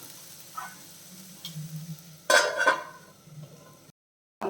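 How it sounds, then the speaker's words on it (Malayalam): Bitter gourd sautéing in a pan over a low flame: a soft, steady sizzle with occasional stirring scrapes and one louder burst of frying midway, then a brief silence near the end. "ആ രീതിയിലാവുന്ന വരെ നമ്മൾ ഫ്ലെയിം കുറച്ച് വെച്ച് ഒന്ന് വഴറ്റിയെടുക്കണം"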